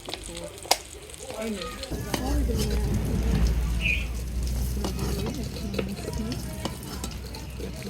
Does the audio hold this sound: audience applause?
no